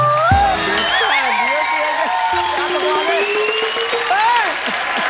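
A studio audience on a comedy show set claps and cheers, and the applause runs steadily throughout while music and voices play loudly over it.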